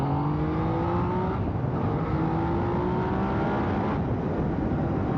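A Yamaha XSR 900 motorcycle accelerates with a continuous loud engine roar, its pitch climbing steadily through a couple of rising sweeps, heard close with heavy wind rush and no voices.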